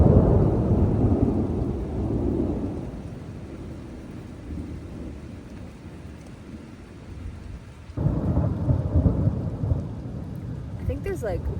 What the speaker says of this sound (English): there's like multiple sources of the thunder because I've seen lightning multiple times